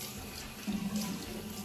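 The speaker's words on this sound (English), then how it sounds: "I'm gonna rinse this off." Water runs steadily from a tap into a sink for rinsing off a face scrub, a continuous close splashing hiss with a slight swell partway through, no talking.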